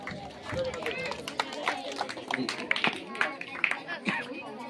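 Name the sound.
students applauding at an award ceremony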